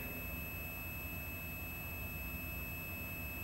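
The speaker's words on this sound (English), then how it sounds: "Yes, the buzzer sound" A continuity tester buzzes steadily while probing a pair of electric motor winding pins that form one coil, a constant tone holding throughout at moderate level with no talk.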